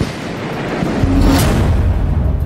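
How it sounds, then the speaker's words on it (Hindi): A loud, rumbling explosion-like boom swells and lingers, with a burst of crackling noise midway and no voices. "अचानक वहां एक तेज धमाका हो गया"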